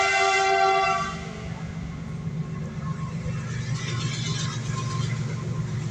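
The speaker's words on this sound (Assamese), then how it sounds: "শুনিছেনে আপোনালোকে মাত ট্ৰেইনৰ মাত" A train rumbles past on a nearby railway line, its horn sounding loudly at the start before the steady clatter of wheels and wagons carries on close by.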